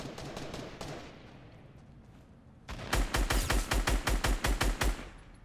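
Automatic gunfire in a shooter game, a fast run of shots that fades out, a short lull, then a louder close burst of about a dozen evenly spaced rounds with heavy low thumps.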